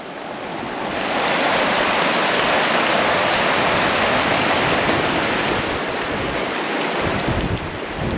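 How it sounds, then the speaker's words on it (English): Strong, freezing wind at a roof-tent campsite roars into the microphone as a steady, loud rush of buffeting noise that continues throughout. "I don't know if you can hear me over this wind."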